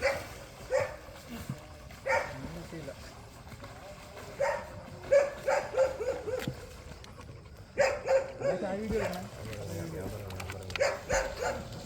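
A dog barks in a series of short, moderately close woofs beside a river during a fishing outing, with people talking over and between the barks.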